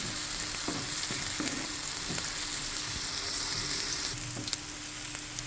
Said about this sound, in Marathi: बरोबर कांदो जालो रेडी. टोमॅटो ॲड करता. बरें भाजून घेवंक जाय